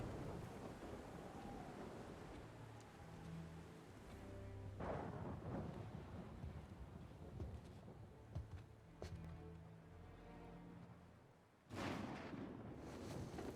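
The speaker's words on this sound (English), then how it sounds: "Dude, this is one hell of a storm." Faint, low rumbling storm in God of War, with wind wash and a couple of sharp thunder cracks and a louder burst near the end, distant and quiet with no talk.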